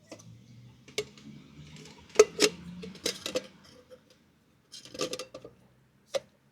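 Light metallic clinks and taps as an OEX Heiro backpacking stove is dropped and packed into its cooking pot, a few scattered knocks with quiet gaps between, close and fairly soft.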